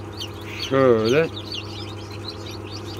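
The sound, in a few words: newly hatched chick peeping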